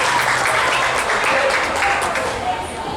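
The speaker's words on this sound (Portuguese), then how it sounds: "Palmas para a professora Gisele." An audience claps steadily throughout, dense and sustained, at a literary tribute event honoring a writer, with a constant wash of hand claps and no clear talk on top.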